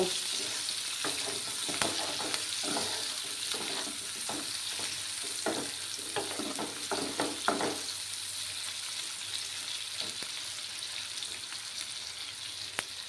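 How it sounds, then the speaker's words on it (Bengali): Onions fry in a pan for a fish-head curry, a soft continuous sizzle broken by repeated scrapes and stirring clatters of a spatula, which stop near the end and leave only a quiet hiss. "পেঁয়াজগুলোকে আমি লাল লাল করে ভেজে নেব।"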